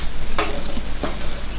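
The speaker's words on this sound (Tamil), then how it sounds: "கடுகு வெடிச்சிடுச்சு." Sharp crackling bursts of mustard seeds popping in hot sesame oil, two distinct pops over a steady sizzle, close and fairly loud.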